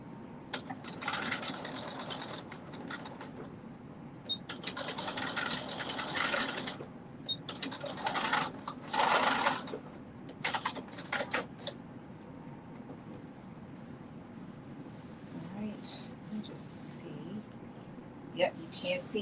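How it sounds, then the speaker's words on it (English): A domestic sewing machine stitches a skirt seam allowance in several short runs of rapid mechanical whirring, separated by quiet pauses with soft handling noises. "And I'm just going to stitch it right to that seam allowance."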